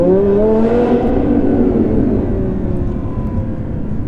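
Audi R8 V10 Plus, tuned to 850 bhp, accelerating hard in a tunnel, its engine note climbing in rising harmonics and echoing off the walls, loud and close throughout with no speech.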